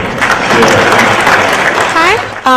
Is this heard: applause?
yes